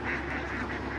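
Dense, continuous din of a large flock of ducks on a duck farm, steady and loud without pauses, with no talk over it.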